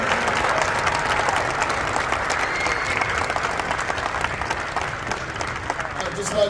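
An audience at a press conference for Alabama A&M's new football coach applauds throughout, a dense, sustained round of clapping with a few voices mixed in.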